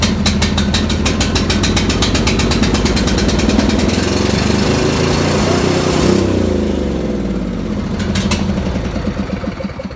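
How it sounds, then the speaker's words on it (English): V-twin lawn mower engine idling roughly, a loud, fast uneven chugging pulse that wavers and dips in speed, close up and alone with no talk. "this V-twin ain't the smoothest running engine I've ever seen, but it runs and it moves the mower around"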